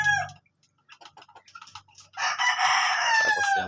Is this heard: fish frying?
no